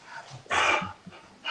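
Pit bull dogs indoors giving short whimpers and whiny yelps with soft breathing and a brief vocal burst, close but fairly quiet.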